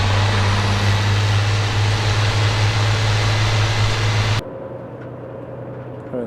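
Cabin of a moving Setra S 411 HD Topclass VIP coach: a steady, fairly loud low drone of engine and road noise that drops abruptly to a much quieter hum about two-thirds of the way through.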